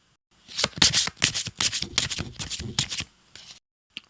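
Tarot cards shuffled by hand close up, a quick run of crisp riffling flutters over a few seconds, then a brief pause and a single soft tap at the end.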